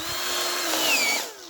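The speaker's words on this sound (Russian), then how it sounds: "Это я еще и шуруповертом сверлю." A cordless drill-driver fitted with a cobalt drill bit whines loud and close as it bores through material, its motor pitch holding steady and then sagging briefly under load before the whine tails off.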